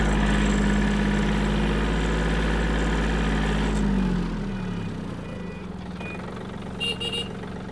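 A Yanmar F-210 Japanese mini tractor engine idles close by with a loud, steady low throb, then eases down to a quieter, rougher idle partway through, with no voices.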